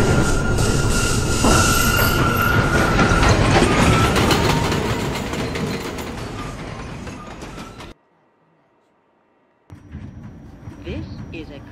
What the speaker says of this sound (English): This is a Manhattan-bound A local train.